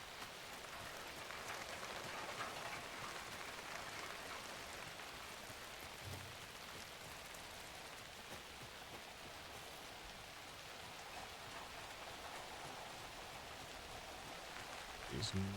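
Rain in the horror game Alan Wake 2 hisses as a steady, soft wash of falling water across the whole stretch, even and unbroken, with a faint thump or two near the end.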